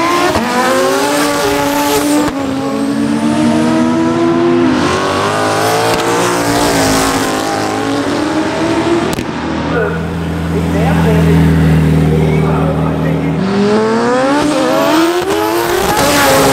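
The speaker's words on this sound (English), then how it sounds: "they're doing some roll racing out here right now" Race cars roll racing at the World Time Attack event, with engines roaring loudly and revving through gears nearby. The note surges and fades continuously while people talk over it.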